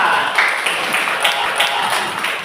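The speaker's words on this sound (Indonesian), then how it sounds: "Ya, tepuk tangan." A classroom of young pupils clapping their hands together in a steady, dense patter that fills the room, close and fairly loud, with no talk over it.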